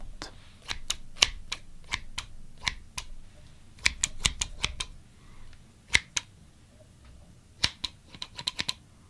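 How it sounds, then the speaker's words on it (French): Pair of scissors snipping close up in a quiet room, sharp metallic cuts coming in irregular bursts of single and quick double snips over a soft low background. "Et pas uniquement cette paire de ciseaux si relaxante."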